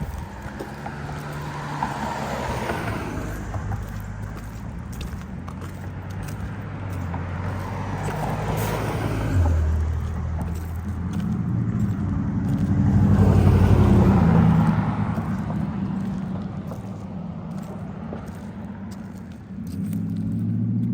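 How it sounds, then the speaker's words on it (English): Cars rumble past one after another on a bridge, swelling and fading as they go by, with a steady low road drone and some wind in between. "there's cars coming, as you can see"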